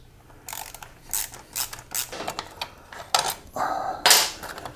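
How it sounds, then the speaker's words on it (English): Screws and nuts being loosened on a 2024 Kawasaki KLX300 motorcycle during swing arm and linkage service: a run of close, sharp ratcheting clicks and metallic tool bursts in irregular clusters, ending with a louder clatter. "these three screws have nuts on the back that you have to hang on to get them loose"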